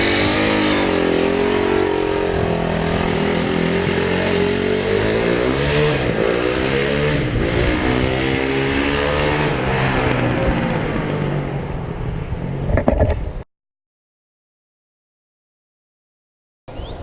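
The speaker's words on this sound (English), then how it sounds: "Now slowly let the clutch out while holding on the throttle at the same time." A dirt bike engine revs steadily and loudly as the clutch is eased out, its pitch rising and falling for about thirteen seconds before cutting off abruptly into silence.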